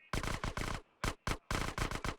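Micro SMG fire in GTA San Andreas: several rapid automatic bursts of varying length separated by short gaps, crisp and close, with no talking.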